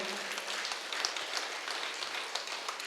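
An audience claps at an International Meditation Day gathering, a soft, distant, steady patter of many hands for a few seconds with no voices.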